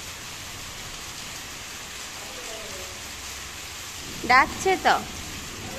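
Rain falling outside, a steady even hiss of rainfall on surfaces throughout, with a child's brief calls and a short spoken phrase near the end.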